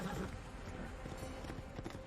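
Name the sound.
horse hooves galloping, demon horse in Sleepy Hollow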